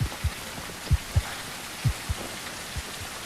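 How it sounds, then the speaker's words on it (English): A player character's heartbeat in the survival game Blind Descent when stamina runs out, a steady low double thump repeating about every second over faint ambient hiss, alone without talk. "I hear my heartbeat"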